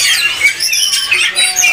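Black-breasted cutter songbirds at a bird market kiosk, loud close bright chirps and squawks rising and falling in a busy continuous stream.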